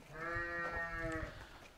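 Arashan rams and sheep on a farm bleat in one long, drawn-out wavering call, close and clear above faint background rustle, with no talk.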